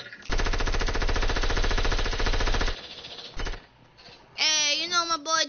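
Rapid automatic gunfire rattles in a video game, a dense loud burst of about two and a half seconds, then a brief short burst and a pause, followed by a high excited voice talking.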